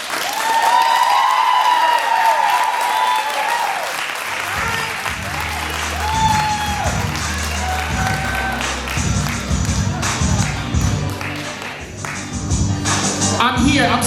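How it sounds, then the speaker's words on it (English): Sustained applause from a large audience at a poetry slam fills the room, dense clapping with scattered cheers and voices, staying loud throughout. "Give it up one more time for Reality."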